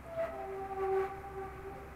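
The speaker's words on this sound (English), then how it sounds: "Ooh, you can hear the train." A train passes somewhere near a toy store, heard as a faint rumble with a sustained tonal whistle or horn-like drone above it, no speech.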